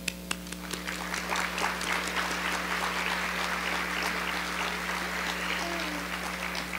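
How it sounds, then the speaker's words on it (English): Sustained audience applause fills a conference hall during a youth services training event's mural winner presentation, steady dense clapping throughout with a constant low electrical hum underneath. "And that applause was for you, Noah and Brandon."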